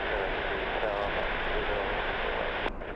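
An airliner engine drones steadily on the runway at Los Angeles airport, a broad continuous roar heard at a distance with people talking over it.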